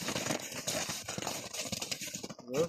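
Horse hooves clip-clop on the ground in an irregular series of close thuds on a winter horse farm, with faint background noise.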